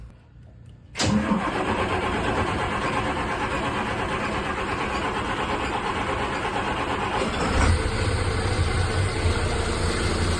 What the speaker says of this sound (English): Gonna turn the engine on.